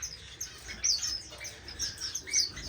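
Orange-cheeked waxbill finches chirp in an indoor bird room, a steady stream of thin, high tweets with a few brighter calls standing out over faint background noise.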